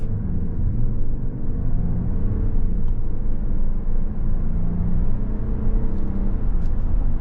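A 2024 Jeep Wagoneer Series II 4x4 full-size SUV pulls away from a stop, its engine and road rumble steady and loud throughout with a smooth whirring drone and no talking.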